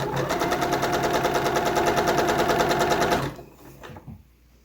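A sewing machine chain-stitching pieces runs fast and steadily for about three seconds, rhythmic needle chatter, then stops abruptly, followed by a few quiet clicks.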